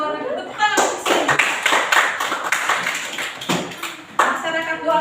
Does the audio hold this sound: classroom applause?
yes